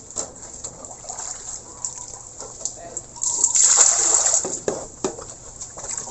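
A bucket of water poured out in a pig pen where piglets are fed starter feed, a splashing gush lasting about a second amid scattered trickles, drips and animal noises, with someone talking.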